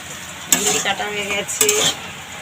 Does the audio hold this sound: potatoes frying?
yes